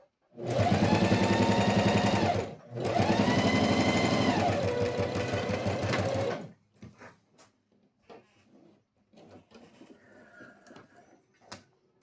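A sewing machine stitches a topstitched seam on a pencil case in two loud, fast runs with a brief pause between, then falls quiet except for light handling clicks.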